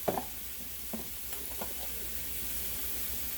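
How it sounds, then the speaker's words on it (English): Sliced peppers and onions sizzling in a pan as they start to cook, a soft continuous hiss with a few faint clinks and pops. "I'm going to go ahead now and put my peppers and onions and let them start cooking"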